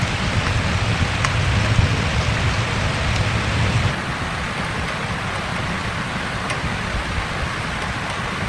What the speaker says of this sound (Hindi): और अब सुबह हो चुकी है लेकिन स्टिल बारिश तो हो रही है।